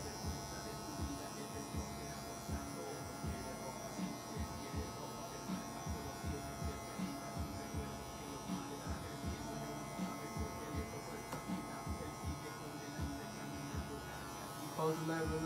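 Electric hair clippers buzz steadily at close range while cutting a crop top fade, lever open, with a faint hum beneath and no talk.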